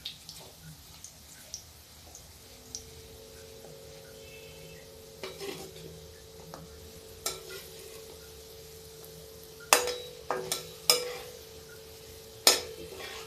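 Moong dal pakoras for kadhi fry in hot oil with a faint steady sizzle, and a metal utensil clinks and scrapes against the pan in scattered sharp knocks, louder toward the end.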